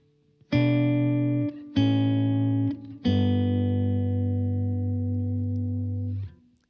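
An electric guitar played through effects pedals with no reverb rings out three sustained chords, two short and one long, clean and dry with a distinct attack and a full decay to silence.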